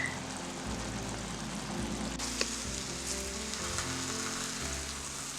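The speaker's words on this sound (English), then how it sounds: "A beautiful boiling gravy with egg on top of it." Gravy with an egg on top boils and sizzles in a pan, a steady, close bubbling hiss with a few small pops and no talking.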